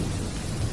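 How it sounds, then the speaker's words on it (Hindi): A heavy rainstorm with thunder roars as a dense, constant wash of rain, with a deep low rumble beneath it, loud and close throughout. "कितनी तेज भयानक बारिश हो रही है।"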